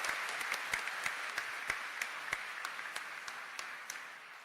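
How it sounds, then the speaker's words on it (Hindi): An audience at a public event in Gorakhpur with the chief minister present gives steady applause, a dense wash of many hands with sharper individual claps standing out, heard from a moderate distance and with no talking. "और एक जोरदार ताली महाराज जी के लिए,"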